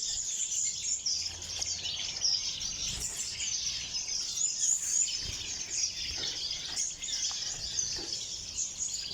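Cordon bleu finches in an aviary, a steady dense layer of high, thin chirps and tweets continuing throughout at moderate loudness, with no talking.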